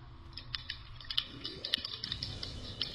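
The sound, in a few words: rapid clicking of computer keyboard buttons while playing a video game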